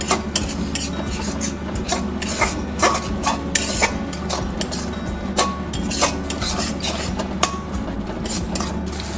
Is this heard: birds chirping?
no